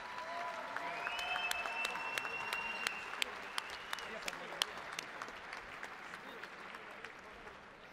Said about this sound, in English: Ladies and gentlemen, if we could please get a nice round of applause for both of these fighters.